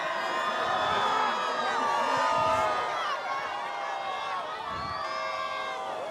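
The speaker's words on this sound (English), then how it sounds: "Listen to the crowd." A passionate Brazilian crowd cheers and roars at a surf competition as 2019 world champion and Olympic gold medalist Italo Ferreira walks down the catwalk, a loud, sustained mass of shouting and whooping with a swell partway through.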